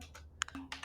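A few separate keystrokes on a computer keyboard while JavaScript code is typed, quiet and close, with short gaps between the clicks.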